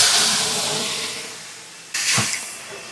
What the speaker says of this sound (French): On va rajouter un peu d'eau dans le four pour créer un peu de la vapeur.